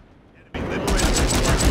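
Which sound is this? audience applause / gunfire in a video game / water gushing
gunfire in a video game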